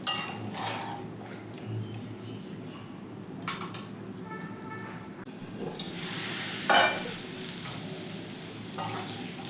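Pointed gourd (potol) frying in oil, stirred in the pan: a steady sizzle under repeated scrapes and clinks of the utensil against the pan, with one brighter clatter near the end, close and moderately loud.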